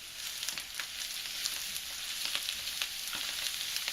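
Green onion frying in bacon grease in a pan, a close steady sizzle with scattered crackles and pops throughout.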